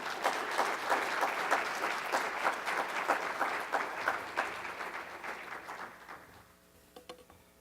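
A church congregation gives a warm round of applause to welcome a pastor, dense clapping that holds steady and then tapers off to a few last claps.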